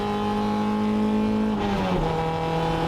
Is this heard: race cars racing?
yes